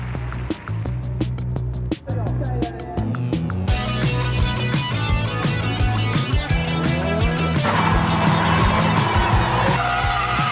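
A modified Nissan Silvia drift car at a Drifting Paradise drift event roars with a loud, revving engine and long screeching tire squeal, sustained and close throughout.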